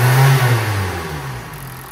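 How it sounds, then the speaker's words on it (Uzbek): Kia Seltos with a naturally aspirated 2-litre engine converted to run on propane, exhaust note heard up close as a loud rev that settles toward a lower running hum. "Hozir yana ishlab turibdi, chiqirdan sesini eshitib turibsizlar."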